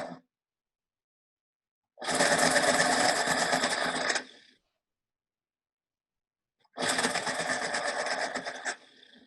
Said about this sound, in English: That was a pencil sharpener.